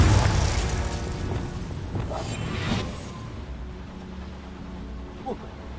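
Confringo spell explosion in Hogwarts Legacy, a loud booming blast that opens the clip and decays into a rumbling fade, followed by a brief small pop near the end.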